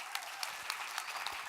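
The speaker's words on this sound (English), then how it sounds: "Let's give Maddie a big round of applause." A short burst of audience applause for a young panellist at an annual conference in Melbourne, with sharp individual claps standing out over a quiet, even patter.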